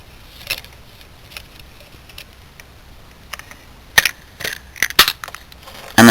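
A plastic Star Wars Transformers Darth Vader figure that converts to a TIE Advanced X2 being closed up, giving a string of sharp plastic clicks and snaps, sparse at first and then a tight cluster of louder snaps near the end, in an otherwise quiet room.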